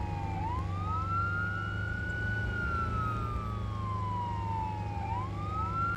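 Police car siren in Arma 3, a steady wailing tone sweeping up and down continuously, loud and close, over a low rumbling vehicle drone.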